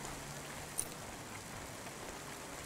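Steady rain falls across a neon city street in the cyberpunk video game Cloudpunk, a faint, even hiss with one brief tick early on.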